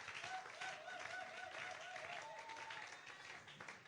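A church congregation applauds steadily throughout, faint and distant, with some voices and tonal singing mixed into the clapping.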